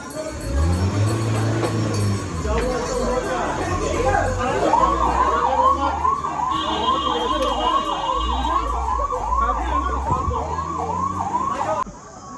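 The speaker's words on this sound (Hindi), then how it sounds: "तो एम्बुलेंस आई थी, कुछ लोगों को चक्कर आ गया था, उन लोगों को लेके चली गई" An ambulance siren wails in steady repeating cycles on the Vaishno Devi pilgrimage path, loud and close, over a busy background of footsteps and crowd noise.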